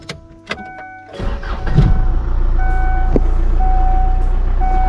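A car engine cranks and catches after a few clicks and a short whir, then settles into a steady, loud idle close by.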